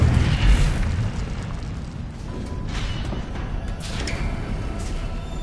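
The Incendio fire spell cast in a Harry Potter video game, a heavy booming burst that fades into a rumbling, crackling roar, loud and close, with no talking.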